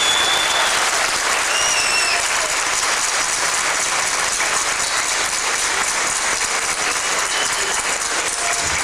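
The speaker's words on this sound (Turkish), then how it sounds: "şefimiz Oyanma bir alkış." Sustained audience applause fills a Van folk song concert hall, a dense, steady wash of many hands clapping continuously at full strength with no gaps.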